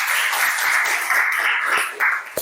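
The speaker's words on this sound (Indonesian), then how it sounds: "Tepuk tangan untuk kita semuanya." A high school economics classroom in Indonesia breaks into a short burst of student applause, a scattered, fairly steady patter of hand claps.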